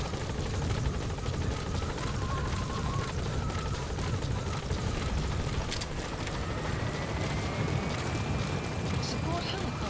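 Support helicopter arriving in Metal Gear Solid V: The Phantom Pain, a steady rotor and engine drone filling the whole stretch at moderate level, with voices talking over it.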